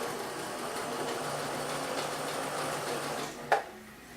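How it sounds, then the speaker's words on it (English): A Kenmore 385.17124 sewing machine running a stretch stitch on a piece of denim, a steady rapid mechanical whir throughout that stops with a small click near the end, with no talking. "That's one of the stretch stitch, design stretch stitches that it does."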